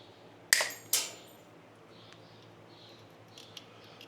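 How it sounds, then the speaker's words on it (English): Diagonal cutters snip wire to length during a repair of a 1956 John Deere 80 pony motor, giving two sharp, close clicks about half a second apart, followed by quiet room background. "I just got to cut it to length with my dikes."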